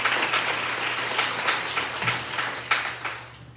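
An audience at an International Women's Day event applauds steadily, a moderate patter of many hands clapping together under a low steady hum, easing slightly toward the end.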